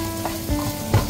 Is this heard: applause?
no